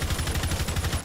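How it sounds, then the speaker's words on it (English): Rapid automatic gunfire in the video game Rainbow 6 Siege, a dense, continuous burst of shots lasting about a second, loud and close, without talk. "Where the hell am I getting shot from, dude?"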